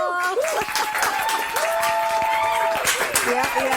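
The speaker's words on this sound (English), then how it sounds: "Can I have a round of applause?" An audience claps and cheers at a televised Ghanaian talk show, a dense wash of applause heard close and steady while a speaker's voice carries on over it.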